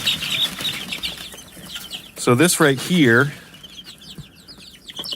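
Young chicks raised from Greenfire Farms cluck and chirp nearby in short, nervous bursts, with someone talking over them.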